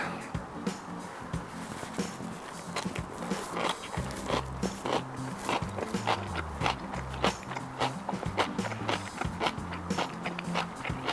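Steady, close crunching of crisp pickled cabbage being chewed, a rapid run of wet crackly bites continuing throughout.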